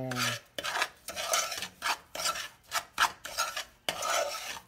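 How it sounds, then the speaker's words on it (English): A spoon works through peach cobbler cheesecake batter mixed with salt and cinnamon, making rhythmic scraping, rasping strokes against the bowl in about eight close bursts with short pauses, and no voices. "Stir that all together"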